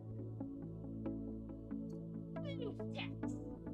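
A pet cat meows faintly indoors, with a couple of short rising and falling calls near the end over a steady background hum.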